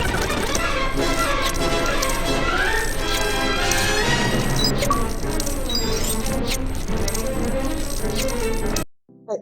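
Dense, constant cascade of metallic clinks and chimes as gold studs rain down from a stud fountain in the Lego Star Wars: The Complete Saga hub, loud and unbroken for about nine seconds before cutting off abruptly.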